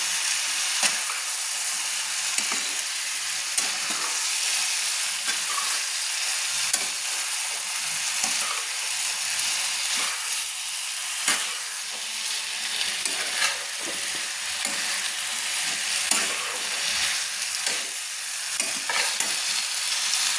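Bottle gourd pieces fry with spices in a pan, stirred continuously with rhythmic scraping clicks over a steady, loud sizzle, close up with no talking.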